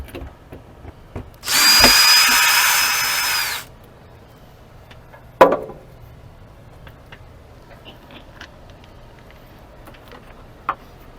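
A power drill runs in one sustained whir for about two seconds while backing screws out of an RV entry door lock's striker plate, followed by a sharp clack and a few light handling knocks.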